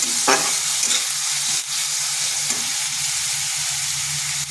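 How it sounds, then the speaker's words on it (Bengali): Ginger-garlic paste frying in a pan sizzles steadily at close range as a loud, continuous hiss, with a few soft scraping stirs of a spatula breaking through it. No one speaks. "এটাকেও একটু ভেজে নিলাম যাতে তার আদা বা রসুনের কাঁচা গন্ধটা চলে যায়"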